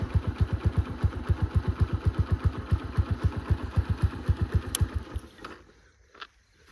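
Jaydeep's motorcycle engine running close by with a loud, even, rapid thumping beat that cuts off near the end, leaving faint background noise.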